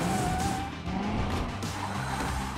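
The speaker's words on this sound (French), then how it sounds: "Ou fais crisser les pneus." Car tires screech loudly under hard steering, a continuous close squeal of rubber with engine noise beneath it, lasting the whole moment without any talking.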